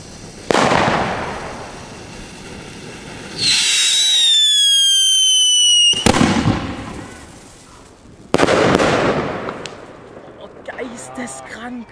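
A Corolla Rotblinker consumer firework battery goes off in bursts: a loud crackling volley, a rising whistling shot, more sharp bangs and crackle, then fainter flickering pops, with excited voices between.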